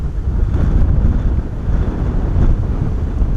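Strong 35-knot wind buffets the microphone at Bristol Airport, a loud continuous low roar with gusty surges throughout and no voices.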